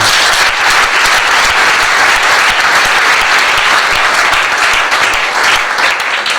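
A church congregation applauds and cheers in acclaim of the Lord, a dense, steady wall of loud clapping sustained throughout without pause.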